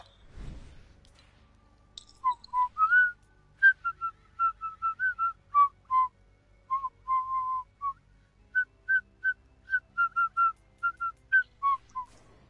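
A person whistles a short melody of clear, separate notes in a quiet room, alone with no talking, after a brief soft breath or rustle at the start.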